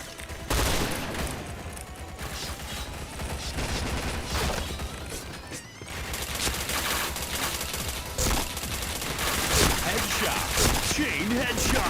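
Rapid bursts of gunfire in a shooter video game, dense crackling volleys and mechanical clacks running almost nonstop, loud and close, with a brief dip near the middle and a voice talking over parts of it.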